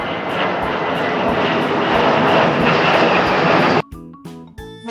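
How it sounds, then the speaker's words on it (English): A fighter jet flies past with a loud, continuous engine roar that holds steady for several seconds, then cuts off abruptly into a short burst of bright, tonal electronic music. "Look at the fighter jet. Sleek and powerful."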